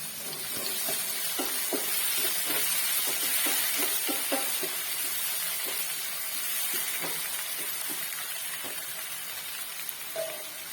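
Chopped tomatoes and salt are stirred into sautéed onions in a pan for tomato rice, making a soft, continuous sizzle and hiss with scattered light clicks from stirring.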